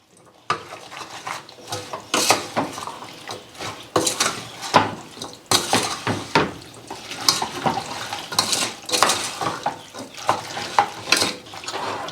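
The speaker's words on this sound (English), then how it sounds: "We're just going to mix that all together" A spoon stirs homemade barbecue sauce ingredients in a bowl, giving a steady run of close scraping and knocking strokes in uneven rhythm.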